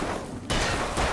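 Two sharp, loud bursts of gunfire from a gun in the Alan Wake video game, about half a second apart and heavy and close-sounding.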